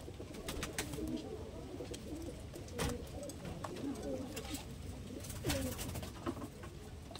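Large Giribaj pigeons cooing in a loft, repeated soft throaty coos from several birds overlapping at moderate distance, with occasional wing flutters and scattered sharp clicks over a steady background hum.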